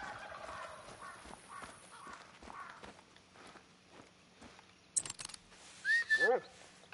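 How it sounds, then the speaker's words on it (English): Wild turkeys gobble in the brush, fairly close, with quiet rustling footsteps at first and then a couple of loud gobbling bursts near the end. "Turkeys."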